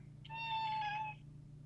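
A house cat lets out one clear, drawn-out meow, fairly close but soft, over a low steady indoor hum.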